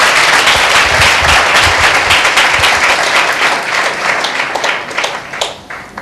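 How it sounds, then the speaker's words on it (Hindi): A church congregation at a Sunday meeting claps loudly and steadily in dense, close applause that continues for several seconds and then gradually thins and fades. "जोरदार ताली दें प्रभु यीशु मसीह के नाम को"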